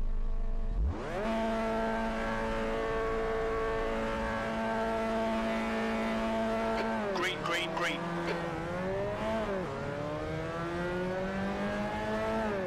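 A Mazda MX-5 race car in the Assetto Corsa racing game launches on the Nürburgring GP circuit. Its engine snaps from idle to a loud, steady high-rev drone, then swoops through rising and falling pitch sweeps as it shifts gears.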